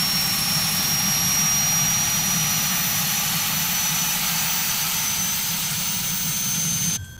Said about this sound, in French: Et là, on va avoir un démarrage de notre moteur gauche.